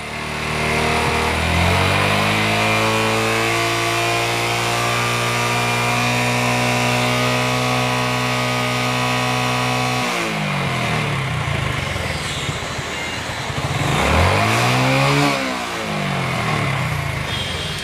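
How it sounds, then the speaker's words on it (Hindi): A Hero Glamour motorcycle engine idles loudly and steadily up close, then is revved twice, rising and falling in pitch, with a rough mechanical idle between the revs. "अब बाइक को पिकअप दे रहा हूँ।"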